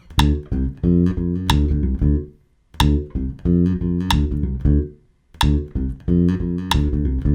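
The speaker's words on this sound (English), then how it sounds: "I can just take them away on the metronome right here." Sharp metronome clicks land on beats one and three, evenly spaced, beneath instrumental music that drops out briefly between phrases.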